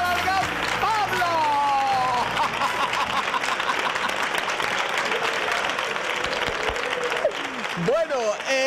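A studio audience on a Spanish-language variety show applauds a guest after his singing, loud continuous clapping throughout, with a host's voice and music briefly rising over the start and end.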